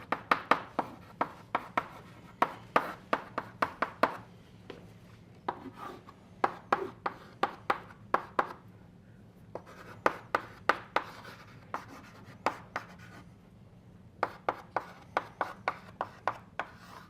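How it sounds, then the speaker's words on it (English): Chalk or marker tapping and scratching as an equation is written out on a board during a physics lecture on Sudakov log summation: a long run of quick, crisp strokes in short bursts, close and fairly quiet, with no talking. "let me write it out."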